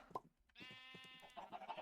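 A single drawn-out sheep bleat from the Minecraft video game, clear and prominent, set between short bursts of other game noise.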